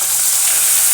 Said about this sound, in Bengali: এবার এতে আমি আলুটা ভেজে নেব।